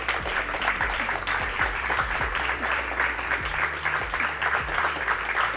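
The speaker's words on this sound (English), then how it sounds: "a big round of applause to all the teams that are behind this amazing project" Audience applause at a youth football awards ceremony held at a stadium: dense, sustained clapping from a large crowd, loud and continuous throughout.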